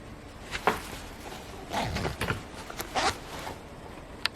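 A quiet skirt zipper is pulled in a few short, scratchy strokes, with small rustles and clicks between them, close by with no talking.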